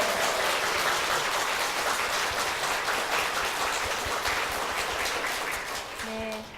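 A church congregation gives a long, vigorous round of applause for its senior pastor and church, many hands clapping densely and steadily and fading slightly near the end.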